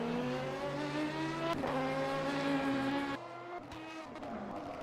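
A McLaren 720S GT3 race car at the Nürburgring, its engine revving loud and sustained with pitch shifts through gear changes, then dropping to a lower drone.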